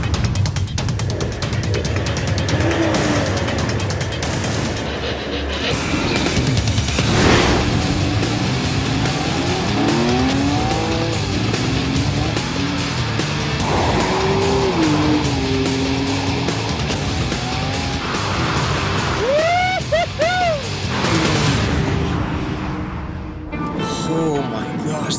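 A carbon-fiber Tesla electric car launches hard in a drag race against a combustion car, engine noise and tire squeal rising amid loud, excited talk and shouting over a long stretch.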